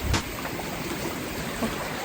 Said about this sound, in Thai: นี่ค่ะลำธารไหล ตลอดทางเลย